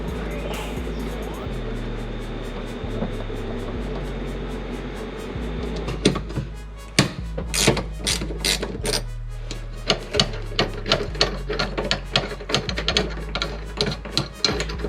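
Handbrake being removed from a Honda Civic, with a low engine-like hum and scattered clicks at first, then a rapid series of sharp metallic clanks and ratcheting knocks, close and fairly loud.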